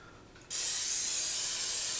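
A can of cooking spray bursts into action after a brief quiet moment, giving a loud, steady, close-up hiss as it coats food.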